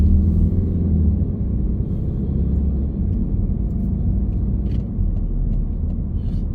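A car idles and pulls through a roundabout after yielding to another vehicle, giving a steady close low engine rumble with road noise throughout and no speech.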